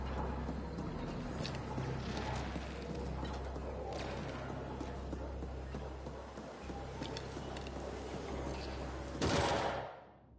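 Weapon gunfire in The Ascent video game, a dense run of rapid shots under a constant low game rumble, ending in a louder burst just before it cuts off.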